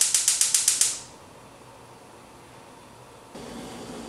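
A gas stove burner being lit to boil fresh water for Kraft Dinner: a quick run of about seven sharp igniter clicks, then near silence before a soft steady whoosh of the flame catching.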